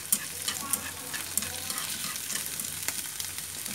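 Tomatoes are stir-fried in a pan for a rice dish, giving a busy crackling sizzle broken by scraping stirring strokes, steady and close, with no voice.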